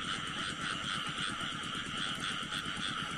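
Small frogs croaking at night in a Vietnamese field, a dense, steady chorus of rapid rhythmic calls that fills the whole stretch without pause.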